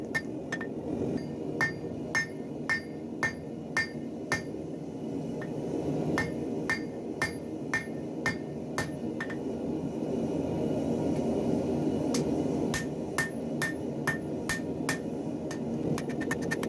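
Hammer blows ring on a kukri blade being drawn out with a cross peen, coming in quick rhythmic bursts of sharp metallic strikes with short pauses between, over a steady background hum.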